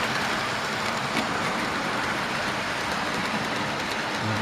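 Model railway train running on a loft layout, a continuous hissing rumble of wheels on track that stays steady and fairly close throughout.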